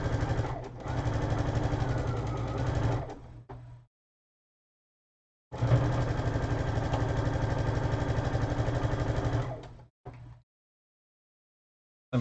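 A sewing machine stitches a quilt seam in two steady bursts of rapid mechanical whirring, each about four seconds long, close and even, separated by silence.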